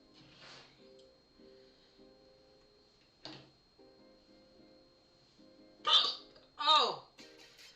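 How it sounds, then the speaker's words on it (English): A few sharp hiccups burst out near the end, two loud ones close together after quieter sounds, from a person with a bad case of hiccups. "I have got hiccups like something fierce."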